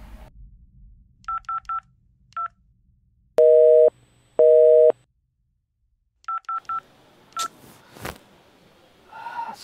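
A phone is dialed with short bursts of touch-tone beeps, then two long busy-signal tones sound, followed by more dialing beeps and a couple of sharp clicks, all close and loud.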